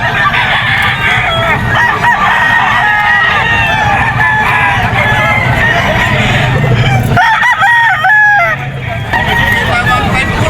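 A yellow-legged Picom gamefowl rooster crows at a busy pet market, its call rising over a dense crowd din with people talking throughout; the crowing stands out clearly, especially near the end.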